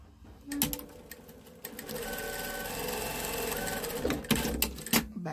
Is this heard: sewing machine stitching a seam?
yes